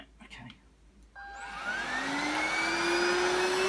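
A VAX TBTTV1B1 cordless SlimVac 22.2 V bagless vacuum cleaner switching on after a few quiet handling noises, its motor spinning up into a steady close whine that holds loud to the end.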